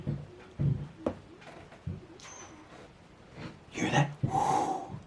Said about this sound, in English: Air is coming out of the hole.